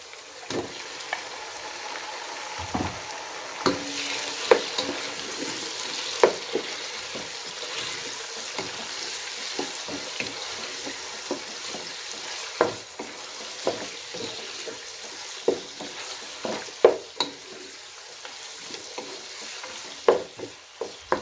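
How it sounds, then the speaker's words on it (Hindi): Chicken pieces fry in a pan for a spiced capsicum curry, a steady sizzle broken by repeated sharp scrapes and clacks of a spoon stirring against the pan, close and fairly loud with no talking. "इसको थोड़ा सा फ्राई करेंगे।"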